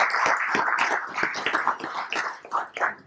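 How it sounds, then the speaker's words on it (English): An audience gives a panel a round of applause at a central bank meeting, with fairly close, moderately loud clapping that is dense at first and thins toward the end. "A round of applause to them, please."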